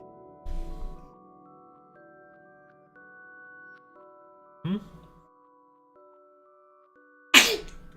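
A person sneezes once, near and loud, near the end of the clip, after a quiet stretch with soft electronic tones and a brief thump from a computer game during a development stream.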